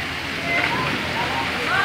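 Water flowing and splashing at an outdoor pool, a steady rushing wash like a small waterfall, moderately loud and continuous with no break.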